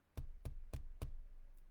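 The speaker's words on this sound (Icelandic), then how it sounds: "Það heyrðist bank." Four firm, evenly spaced knocks on a door sound close and clear in quick succession, followed by a faint fifth tap.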